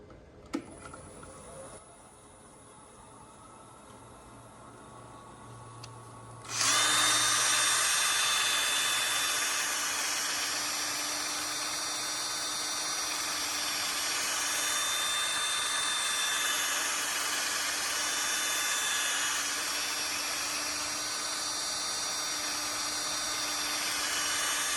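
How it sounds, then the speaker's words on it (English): A spinning buffing wheel polishes a turned wooden burl bowl, starting quietly and then rising into a loud, steady high-pitched whir that holds for the rest of the clip. "take it over to the buffing wheel"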